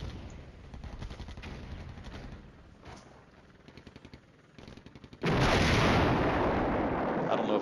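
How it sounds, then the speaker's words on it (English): Artillery firing in a war strategy video game, a run of rapid booming shots that builds into a loud, sustained roar of barrage in the final seconds. "And the artillery fires away."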